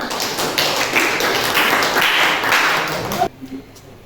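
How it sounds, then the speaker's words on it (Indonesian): A classroom group claps together in a dense burst of applause for about three seconds that stops abruptly, leaving quiet room tone. "tepuk tangan untuk kelompok 5"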